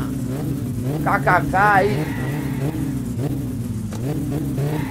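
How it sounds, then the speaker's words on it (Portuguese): A turbocharged car engine in the My Summer Car video game revs up and settles, rising and falling steadily beneath continuous talk and laughter. "A turbina funcionando de boa, turbininha"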